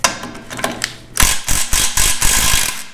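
A socket wrench ratchets rapidly while loosening 15 mm bolts on the spindle of a Volkswagen split-window bus, a close, loud run of clicking bursts after a few lighter metallic taps.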